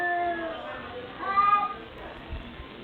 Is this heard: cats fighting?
yes